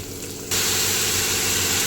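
Onion and curry leaves drop into hot oil in a pan for a Konkan-style fish curry, and a sudden loud sizzle bursts in after a quiet moment, then holds as a steady close hiss.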